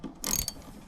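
A ratchet wrench briefly clicks while loosening a bolt during a timing belt job on a 1.9 TDI Volkswagen Beetle, one short close burst of ratcheting under a second long.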